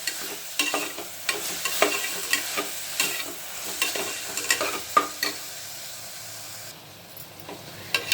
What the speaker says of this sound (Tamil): இது 2 நிமிஷம் கலந்து வேக வச்சாச்சு.